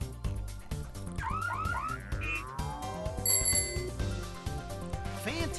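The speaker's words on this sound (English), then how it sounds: "Select your buzzer." A buzzer chooser in the trivia quiz game That Trivia Game cycles through ringing bell-like and bouncy electronic tones over a busy game-show music bed, bright and continuous.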